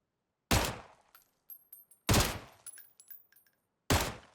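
Three sharp rifle shots from a FAMAS in PUBG ring out alone at even intervals, each a loud crack trailed by short clinks and tails.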